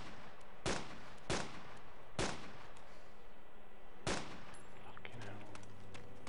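Gunfire in the video game DayZ: four loud, sharp broadband shots, three in quick succession and another after a pause, with faint game ambience between them.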